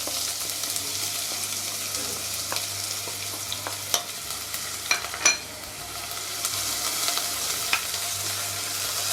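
Onion fries in a pan with salt, chili powder and cumin powder, giving a continuous close sizzle broken by a few stirring scrapes and taps from the utensil.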